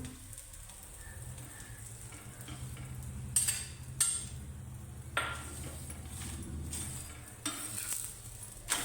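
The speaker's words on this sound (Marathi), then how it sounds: "थोडस लावायचं तेल आणि याचा खरपूस चांगला भाजून घ्यायचा दोन्हीकडून" A wheat-flour paratha roasts in oil on a hot pan, a low steady sizzle with a few sharp clinks and scrapes of a spatula against the pan.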